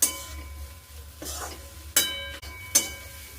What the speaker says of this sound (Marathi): तर आता हे बेसन पीठ पण 2 मिनिटं परतून घ्यायचं।